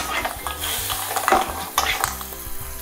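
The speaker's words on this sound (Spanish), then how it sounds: "Vamos a saltear por orden de dureza" Seafood pieces sizzle and fry in a hot pan with salt, pepper, garlic and oregano, with steady close sizzling broken by scraping and clinking of a utensil stirring against the pan.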